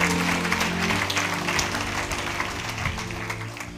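A church congregation at a French-language Pentecost service applauding together, loud and sustained at first and then slowly fading, with some voices in the crowd.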